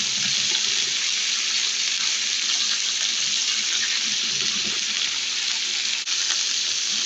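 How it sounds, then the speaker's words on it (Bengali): Ridge gourd frying with turmeric powder in a pan makes a loud, continuous close hiss of sizzling oil, steady and unbroken, with no talking. "এই হলুদের গুঁড়া দিয়ে আমি চিচিঙ্গাকে ভালোভাবে ভেজে নিচ্ছি।"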